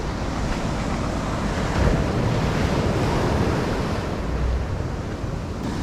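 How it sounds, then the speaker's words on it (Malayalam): Sea waves at Dhanushkodi harbour churn in a continuous broad rush of surf with heavy wind buffeting the microphone, the roar swelling slightly midway with no voices. "നല്ല വേവ്സ് ഒക്കെ ഉണ്ട്"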